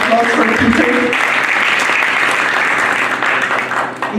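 An audience at a press conference applauds loudly and steadily for several seconds, with a voice speaking briefly over the start of the clapping.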